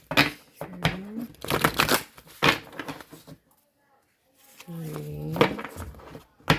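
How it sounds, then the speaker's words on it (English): A deck of tarot cards being shuffled by hand in repeated riffling bursts, close and crisp, with a pause midway and a voice speaking between some of the shuffles. "We shuffle 5 times."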